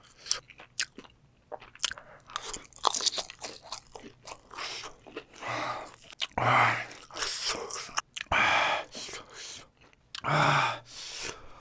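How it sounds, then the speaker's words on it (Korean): Close-up crunching bites and moist chewing of a fried seaweed roll (gimmari) dipped in sauce, eaten in a spicy cheese tteokbokki mukbang, with repeated crisp crunches, breathy pauses and soft mouth sounds, no talking. "김말이 한 마리 소스 이렇게 찍어요."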